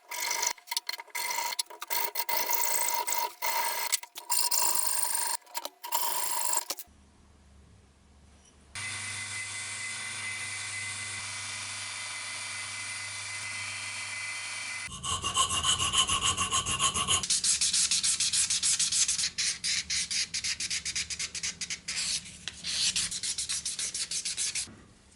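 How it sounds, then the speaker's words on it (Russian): G10 knife handle scales on a folding dagger being ground and rounded, long stretches of harsh abrasive rasping and rubbing that stop and restart with changes in pitch and intensity. "Затем обтачиваю внешние контуры и придаю скругленную форму."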